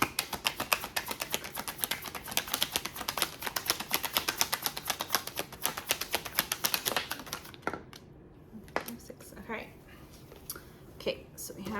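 A deck of tarot cards is riffled and shuffled in a dense run of rapid papery clicks for about seven seconds, then a few scattered card taps and soft handling sounds follow, close and fairly quiet.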